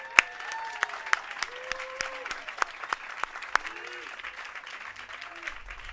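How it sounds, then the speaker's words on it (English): Crowd applauding at an outdoor Hollywood Walk of Fame ceremony: a steady wash of mid-distance clapping punctuated by several sharp, louder claps, with scattered whoops and raised voices mixed in. "Can we give her a round of applause?"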